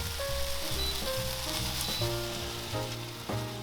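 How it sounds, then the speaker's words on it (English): Pork, carrots and potatoes being stir-fried in a pan, a loud continuous sizzle with clattering stirring scrapes throughout. "Then add the carrots and potatoes and stir-fry again."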